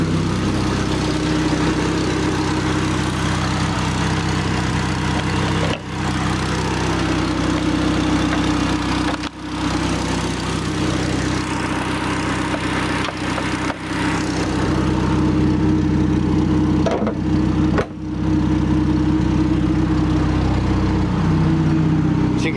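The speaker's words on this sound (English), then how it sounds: "As you can tell, it's got a bit of an exhaust leak" A 1996 Chevrolet Cavalier engine idling steadily with an exhaust leak, a loud, close, continuous low rumble with a raspy edge and a few brief dips over more than twenty seconds.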